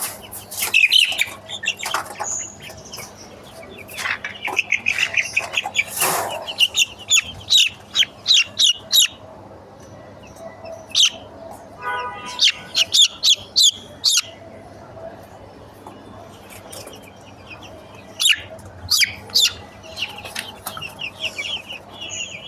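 Chicken chicks chirp in rapid, repeated high peeps that run almost nonstop in close clusters, with brief pauses between them.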